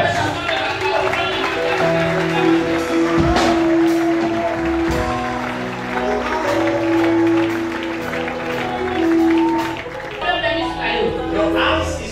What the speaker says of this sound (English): Mama, give God a clap of praise